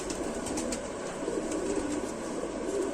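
A male Lal Sira pigeon coos softly and steadily at close range, its low throaty calls repeating over faint background noise.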